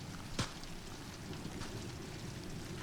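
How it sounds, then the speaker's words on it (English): Steady rain hisses on a mountain forest night in the Blue Ridge, with a brief sharp crack early on and faint distant rumbles beneath the constant downpour. "allow the rolling thunder and sounds of rain to lull you into a sleep"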